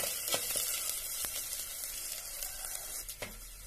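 Onions and tomatoes sizzle and fry steadily in a pan for biryani in a village kitchen, with a few sharp crackles and stirring clinks over the constant hiss.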